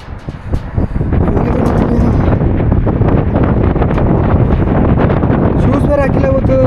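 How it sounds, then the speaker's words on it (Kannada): Strong wind buffets the microphone on a tall network tower being climbed by ladder, a steady loud roar filling the whole clip with a brief lighter gust at the start. "ಒಳ್ಳೆ ಗಾಳಿ ಬೀಸಿದೆ."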